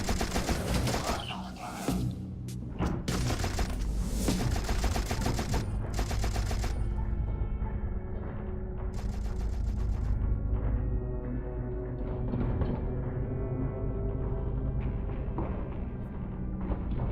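Machine gun fire from the video game You Are Empty, with dense bursts of gunshots over the first seven seconds, then a sustained droning game soundtrack and ambience, loud and with no speech.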